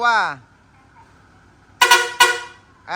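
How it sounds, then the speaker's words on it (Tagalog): A vehicle horn sounds in two short, loud honks close by, with brief bursts of voice at the start and end. "Andy, pati busina, testing mo na rin."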